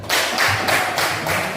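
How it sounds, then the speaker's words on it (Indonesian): A small group claps in a classroom-style session, a brief burst of thick, overlapping hand claps that swells in uneven waves and stays fairly loud throughout. "Beri tepuk tangan."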